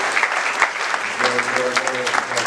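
A church congregation applauds in praise, a dense crowd clapping that fills the space. Voices and a sustained tone are mixed in.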